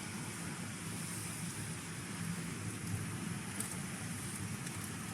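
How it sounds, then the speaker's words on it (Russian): Heavy rain and strong wind in a storm in Nha Trang, Vietnam, heard from indoors as a constant faint hiss and patter with a low rumble, no voices. "Дождь идет и ветер сильный."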